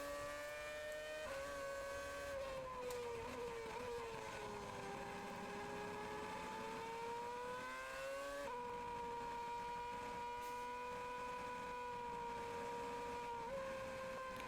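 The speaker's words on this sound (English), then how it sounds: "you just hear the traction control just constantly in use" A Formula Renault 3.5 race car engine at night holds a steady high whine with rapid stuttering cuts from traction control working constantly, heard from a distance with small pitch shifts.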